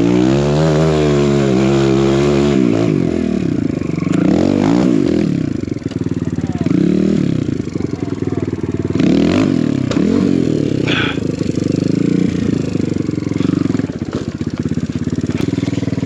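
A four-stroke enduro motorcycle rides through snow, its engine loud and close throughout, opening with a steady rising rev and then surging and dropping repeatedly as the throttle is worked.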